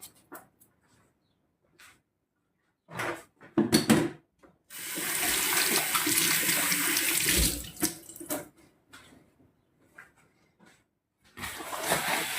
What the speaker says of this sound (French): On va se laver les mains.